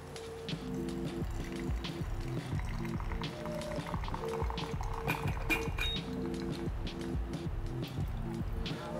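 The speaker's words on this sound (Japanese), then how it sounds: "湯通しをちょっとします。" Hot water is poured to rinse a 02-size paper filter set in a Hario V60 dripper, a steady trickling pour with light clinks, quiet and continuous throughout.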